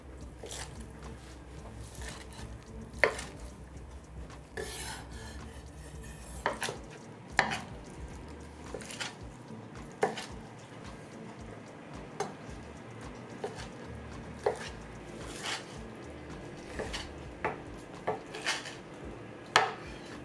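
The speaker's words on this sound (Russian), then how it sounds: "Мясо просто нарезаю." Knife cutting meat into pieces on a cutting board, sharp irregular knocks every second or two, fairly close, with faint kitchen clatter and no talk.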